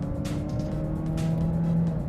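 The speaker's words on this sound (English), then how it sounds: "Just hear that engine tone." A Mazda Axela 3 driven in manumatic mode gives a steady, close engine drone with a faint rising tone under road noise, and no talking.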